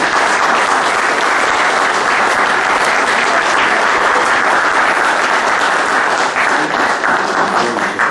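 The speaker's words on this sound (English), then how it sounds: "let's give him a round of applause" A church congregation applauds loudly and steadily throughout, a dense wash of many hands clapping together with no pauses.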